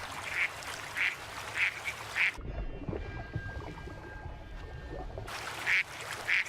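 Ducks on the water give a run of rhythmic quacks, clear and moderately close, then a stretch of low rumbling underwater-like noise, before several more quacks return.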